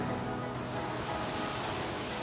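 Ocean waves washing onto the North Carolina shore during a sea turtle release, a steady, broad roar of surf with wind noise and no distinct individual breakers, no voices.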